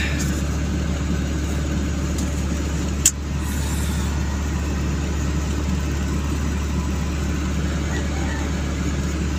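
Idling car engine heard from inside the cabin, a steady low hum with air conditioning running and a single sharp click partway through, no talk.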